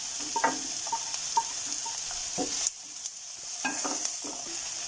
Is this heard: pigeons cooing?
no